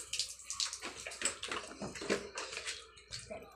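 Water streams from a tap into a Nerf water gun, a faint, steady splashing and gurgling that flickers in short bursts, with no voices over it.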